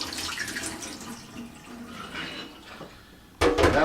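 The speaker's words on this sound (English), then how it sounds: "I'm going to rinse it off. Just so if there's any dust or whatever in it." Water splashes and runs into an empty brewing carboy, a steady rinsing gush followed by a sudden louder burst of pouring water near the end.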